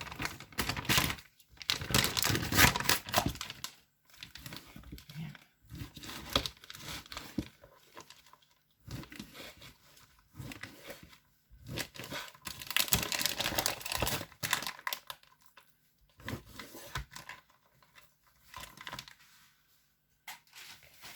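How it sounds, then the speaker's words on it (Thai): Plastic wrapping being cut and torn away from frozen salmon, bursts of crinkling and snipping in irregular clusters, fairly close, with no talking. "ต้องตัดพลาสติกออกก่อนค่ะ"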